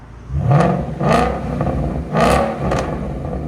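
A 2016 Ford Mustang GT with a 5.0L V8, Flowmaster X-Pipe and X-Force valved exhaust with the valves open revs loudly in several quick bursts, each a throaty rise falling back to a deep idle rumble, close by and alone.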